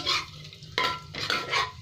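Whole spices, dried red chillies, a bay leaf and cumin seeds, frying in hot oil with a steady close sizzle, broken by a few louder bursts of stirring against the pan, with no talking.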